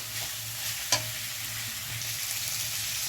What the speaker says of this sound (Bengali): এবারে আমরা কাঁচা মটরটা ওর মধ্যে দিয়ে দেব